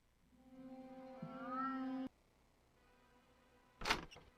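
A cat meows in a RuneScape 3 quest scene: one drawn-out, rising meow with a bright tonal cry, then a brief sharp knock or click after a pause, heard alone without speech.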